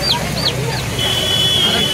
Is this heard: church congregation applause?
no